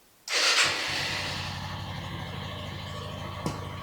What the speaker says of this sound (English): the bike starts and runs